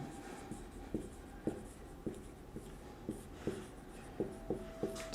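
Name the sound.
writing on a board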